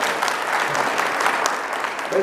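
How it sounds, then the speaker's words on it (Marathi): Loud, dense applause from a lecture audience at a Marathi talk, a steady crowd clapping that fills the whole stretch without pause. "जोरदार टाळ्या वाजवा."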